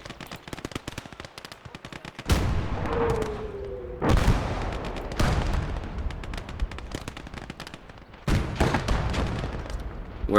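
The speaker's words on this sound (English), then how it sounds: "Artillery fire on this guy, please." Artillery fire in the World War II game Call to Arms: Gates of Hell Ostfront: several heavy booming blasts land among rapid machine-gun and rifle fire, loud and close.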